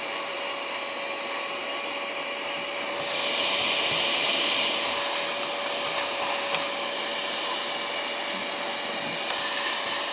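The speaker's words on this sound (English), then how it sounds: "My favorite thing to use though is my little vacuum, because it's very satisfying to actually suck out that lint." A small handheld vacuum whines steadily as it sucks lint out of a sewing machine, its high motor tone rising briefly in pitch and loudness partway through, close and continuous.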